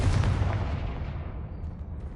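A Confringo blasting spell explodes in Hogwarts Legacy, a loud deep boom with a rumbling tail that slowly fades over about two seconds, no voices present.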